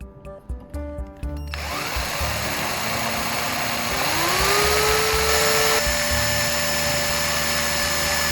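A power drill bores holes for plastic handle parts, opening with a few short stuttering bursts before settling into a loud, continuous whine that rises in pitch midway and holds steadily to the end, with no voices.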